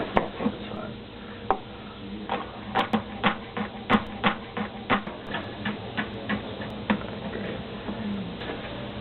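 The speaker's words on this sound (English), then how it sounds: "Right now we're mincing the shallots for the Creole Mustard Beurre Blanc" A knife mincing shallots on a cutting board for a Creole mustard beurre blanc, a run of quick, close chopping taps in uneven bursts with brief pauses between.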